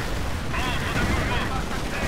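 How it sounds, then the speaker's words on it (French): Enemy gunfire rakes a base in the World War II strategy game Company of Heroes: a dense, continuous roar of shots and battle noise that stays loud throughout, with a voice speaking over it. "La base subit les tirs ennemis."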